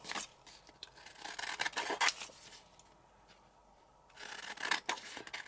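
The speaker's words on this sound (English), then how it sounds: "And then I'm just going to trim this off" Scissors trimming the paper edge of a junk journal tag, a series of soft, close snipping and rasping cuts in short bursts, a quiet gap, then more cutting.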